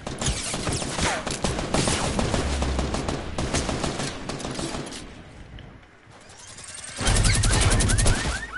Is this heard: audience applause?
no